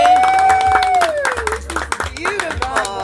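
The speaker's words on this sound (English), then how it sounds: "Let's have an applause." A small gathering in Dahab claps in scattered, uneven bursts throughout, the applause running beneath loud, close voices talking and exclaiming over it.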